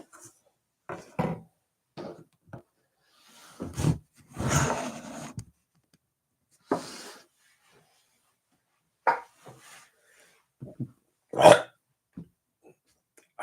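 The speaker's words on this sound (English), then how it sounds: "I hope who's ever listening to this enjoyed that burp." A person lets out a long, drawn-out burp as several rough, guttural bursts with silence between them, close and fairly loud, with no talk.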